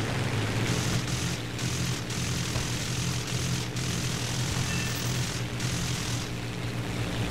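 Steady, loud drone of a propeller fighter's engine in War Thunder, an American reserve plane, holding a constant low throbbing hum with a few short dips, no talk over it.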